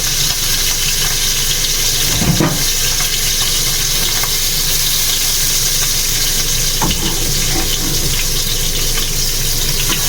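Fish frying in a home kitchen pan for dinner, a steady dense sizzle running throughout at close range with no talk.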